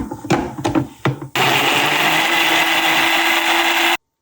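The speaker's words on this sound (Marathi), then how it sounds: "शिरलेलं टोमॅटो हे आता मिक्सरमध्ये याची छान प्युरी तयार करू" A few clicks and knocks, then a mixer grinder roars loudly and steadily, pureeing chopped tomatoes for a few seconds before cutting off abruptly.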